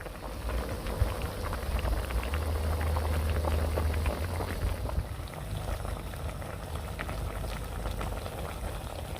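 A pot of catfish soup made with fermented fish sauce bubbles at a steady, vigorous boil, with close, continuous popping and gurgling and no talking.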